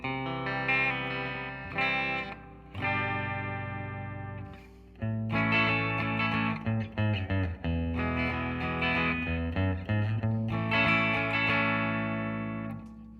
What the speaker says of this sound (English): So this is just guitar through the amp, have reverb and delay going through the effects loop right now.